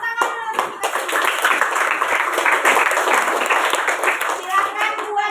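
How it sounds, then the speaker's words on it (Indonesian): A sixth-grade class of students applauds together in a classroom, sustained loud clapping filling the whole stretch with a few voices mixed in. "Oke, tepuk tangan dulu untuk kita semua."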